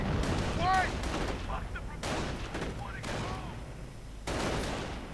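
Gunfire and artillery in a real-time strategy battle around American howitzers, with repeated sharp shot bursts and booming impacts in irregular clusters, loud and near, mixed with ricochet-like whines.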